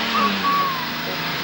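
A lorry's engine rumbles and hisses steadily nearby in a film scene, with a short high whistle-like tone near the start, over a continuous, fairly loud noise bed.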